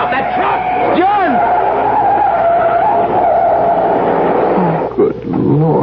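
Truck tires skid in a loud, sustained screech over a heavy roaring rumble, a radio-drama sound effect; the squeal rises and bends through the middle, then breaks up near the end.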